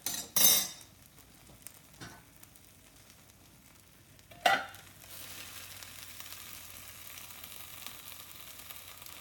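A pressed Thanksgiving leftover sandwich frying in a pan: a few sharp clinks of a utensil against the pan early on, then a steady, moderately loud sizzle as the second side crisps.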